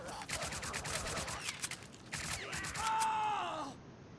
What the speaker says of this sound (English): one guardsman's gonna return fire